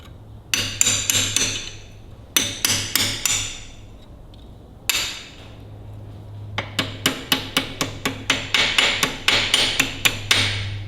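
A hammer strikes a chisel to free the rusty hydraulics on a Ferguson TEA20 tractor, loud sharp metallic blows landing close up in quick bursts with short pauses between them, and no talking.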